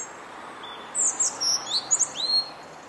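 A bird gives a series of high, thin chirping calls in short bursts over a soft background hiss, fairly close and clear.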